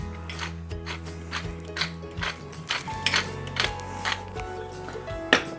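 A pepper mill grinds pepper for bruschetta with garlic and onions, giving a dry, repeated ratcheting crunch in short bursts of twisting, close and fairly quiet, with no talk over it.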